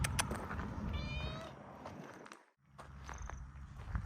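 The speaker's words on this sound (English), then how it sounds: "There's the cat, just coming to say hello." A cat meows a few times close by, its short meows mixed with soft footsteps and shuffling around it.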